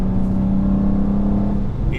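A BMW M2 G87 coupe accelerates hard along an open road, its engine a steady, loud, close drone with a strong low hum that holds throughout under constant load.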